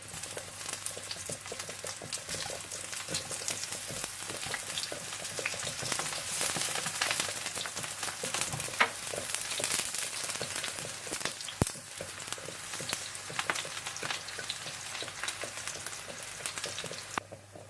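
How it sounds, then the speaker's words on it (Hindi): Eggplant slices shallow-frying in oil, salted on top for baingan borani: a steady, dense sizzle and crackle with scattered pops, moderately loud and continuous throughout, with no voices. "और इस तरह से आप बैंगन फ्राई कर लें"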